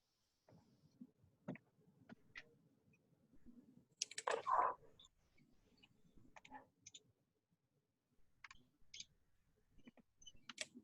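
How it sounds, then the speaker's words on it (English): Sparse clicks of a computer mouse, close and fairly quiet, come in irregular single taps and short bursts, with brief rustling in between and no speech. "I'm clicking on our group right now"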